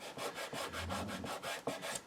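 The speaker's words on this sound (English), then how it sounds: "So just push that across and burnish that down" Tape is burnished down onto a handmade flip-top album box with rapid, rhythmic rubbing strokes, about eight quick back-and-forth passes, close and fairly quiet with no talking.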